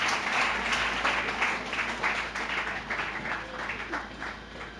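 Congregation applauding during a church service, sustained rhythmic clapping from a crowd at moderate distance, swelling and easing in waves.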